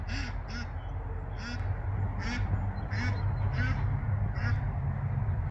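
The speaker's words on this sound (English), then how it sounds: "I got one duck up here in the pen calling for all the other ones" A single duck in a farm pen quacks repeatedly in short, loud bursts of about eight calls, close by, over a steady low background rumble.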